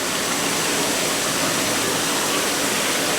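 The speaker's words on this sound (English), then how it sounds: "This is just the pump that I used to empty the tank out" A pump draining water from a fish tank makes a steady, loud rushing gush that stays constant from start to finish with no talking.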